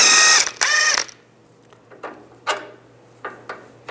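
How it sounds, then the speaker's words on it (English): A ratchet with a 17mm socket backs a sway bar link nut off a 2005-2015 Nissan Xterra. A quick, loud burst of ratcheting clicks is followed by a few scattered, quieter clicks and taps, with no talking. "Use a 19mm wrench on the back side of here to keep the stud from spinning, and then a 17mm socket."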